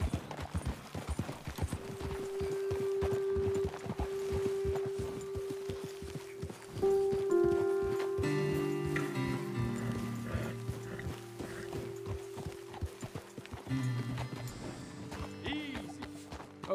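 Horses clip-clopping at a walk in Red Dead Redemption 2, steady hoofbeats close by with game music swelling underneath and a brief voice.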